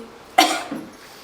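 A single sharp cough, close and fairly loud, with a short trailing breath after it.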